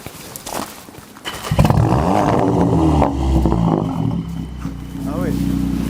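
A VW Polo 6 GTI fitted with a custom stainless exhaust fires up after a few quiet seconds, then settles into a deep, loud, rumbling idle close by.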